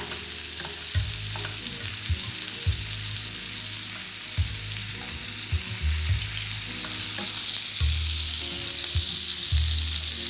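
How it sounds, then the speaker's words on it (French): Fish frying in hot frying oil, a steady loud sizzle and crackle running throughout with repeated bursts of stirring and clattering near the pan, no voices. "l'huile de friture تاعنا راهي مليحة"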